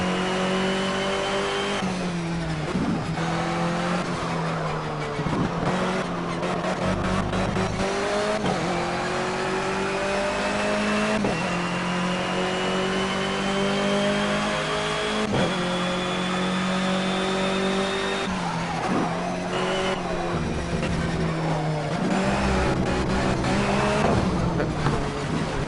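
A race car in Project Cars revs hard and accelerates with its engine pitch climbing and dropping as gears change, tires squealing while it loses grip, loud and continuous throughout.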